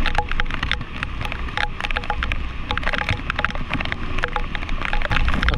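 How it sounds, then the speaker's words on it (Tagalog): Dense, continuous typhoon rain pours and splashes on surfaces, with gusty wind noise underneath and scattered sharp drips and knocks throughout. "lalong lumalakas ang ulan at halos lumalakas na din po ang pag-ihip ng hangin"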